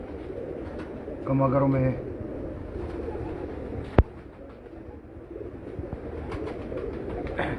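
Red-eyed pigeons coo on a rooftop, a low soft burst of cooing standing out near the start against steady background noise, with a sharp click midway and people talking throughout.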